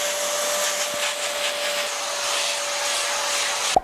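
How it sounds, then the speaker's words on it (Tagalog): A vacuum cleaner runs steadily while cleaning cracks in an exterior wall before repainting, giving a loud, even whoosh with a thin whine, then ending in a sharp knock at the close. "Much better kung gagamitan natin ng vacuum cleaner."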